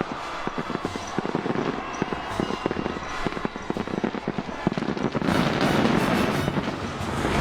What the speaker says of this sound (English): where the fireworks celebrate the victory for Mount Union